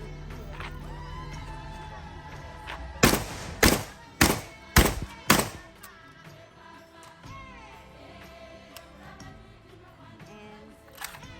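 Five loud, sharp shotgun blasts from a JTS M12AK or Kalashnikov KS12-T fire in quick succession, each with a short ringing decay, followed by quieter outdoor background and faint distant sounds.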